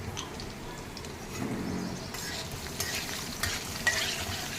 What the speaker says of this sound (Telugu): సన్నగా తరిగిన వెల్లుల్లిపాయ వేసుకోండి.